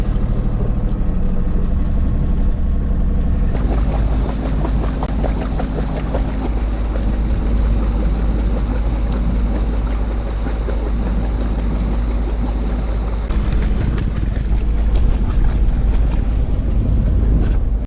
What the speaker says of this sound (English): the old sailboat, it's only a little 30 horsepower motor